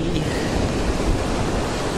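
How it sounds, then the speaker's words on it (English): Strong wind buffets the microphone on an open beach over a constant roar of surf, loud and unbroken throughout. "It is very windy."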